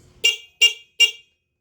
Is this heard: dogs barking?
no